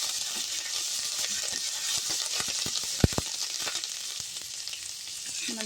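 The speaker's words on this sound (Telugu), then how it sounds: "ఒక్కసారి కలుపుకొని" Spinach curry tempering of fried spices and curry leaves sizzles steadily in a pan while being stirred, with scattered spoon scrapes and a couple of sharp clinks near the middle.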